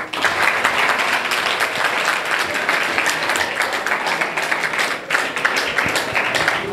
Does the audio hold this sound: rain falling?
no